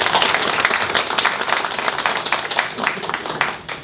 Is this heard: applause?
yes